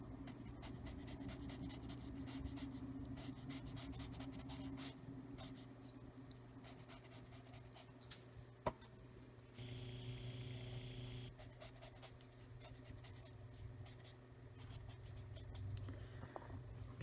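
Colored pencils shading on paper while coloring an owl design, a soft continuous scratchy rasp of strokes with steady rhythm, close and fairly quiet, with no talking.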